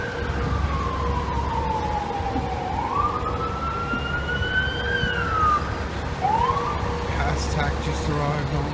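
An FDNY fire engine siren wails as the engine arrives on scene at an all-hands fire in a Manhattan office building, sweeping slowly up and down then rising sharply, heard over steady street rumble.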